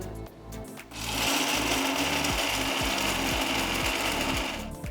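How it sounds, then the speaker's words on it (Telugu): A mixer grinder whirs loudly and steadily, grinding roasted makhana into a powder in batches. It starts after a short pause and runs at a constant motor roar with a rhythmic pulsing, close to the microphone and with no talk over it. "వీటిని మిక్సర్ జార్లోకి తీసుకుంటున్నాను వీటిని మొత్తం కూడా ఒక్కసారి కాకుండా బ్యాచెస్లో రుబ్బుకోవాలి"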